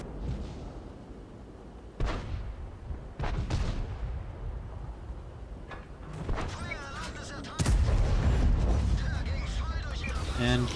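Tank cannon shots in War Thunder, played from a Panzer IV: several sharp heavy booms spaced a few seconds apart over steady engine rumble, the last one loudest, with a voice speaking in between.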